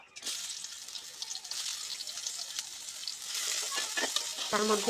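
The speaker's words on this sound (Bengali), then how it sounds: "পেঁয়াজ কুচিগুলোকে 2 থেকে 3 মিনিট ভেজে" Steady hissing sizzle of chopped onions frying in hot oil, with a brief clink and louder crackle toward the end.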